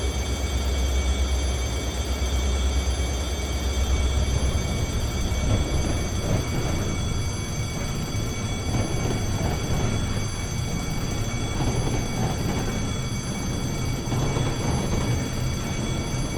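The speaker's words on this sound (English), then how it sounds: "The train's moving." A moving train in the video game The Bouncer gives a steady, continuous rumble of rolling rail cars with a low droning undertone, holding at an even loudness throughout with no talk over it.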